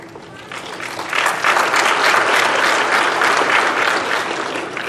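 A room full of people at a chamber of commerce candidates evening claps loudly. The applause swells after the first second and holds steady before easing slightly, with no talking.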